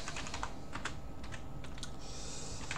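Someone types rapidly on a QWERTY computer keyboard while setting up CloverOS, a Gentoo-based Linux system. The keys give close, crisp, irregular clicks in a continuous run, with no one talking.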